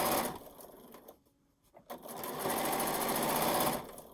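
A sewing machine stitches binding onto a quilt in fast, steady mechanical bursts. It stops briefly near the middle, then runs loud and continuous again.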